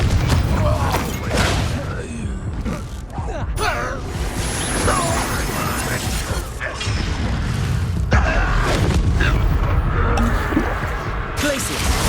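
In the Hogwarts Legacy video game, a Confringo spell fires as a fiery blast amid a busy mix of whooshes, thuds and crashes. It plays under ongoing game voices and effects.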